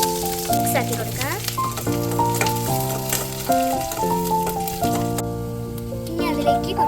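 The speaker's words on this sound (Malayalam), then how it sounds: "കടുക് പൊട്ടിയോണ്ട് ഇനി ചെറിയ ഉള്ളി ഇട്ട് കൊടുക്കാം." Shallots fry with popped mustard seeds in hot coconut oil, a steady close sizzle with crackle that runs the whole time under a speaking voice.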